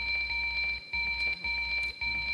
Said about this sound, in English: that's the sound of Final Jeopardy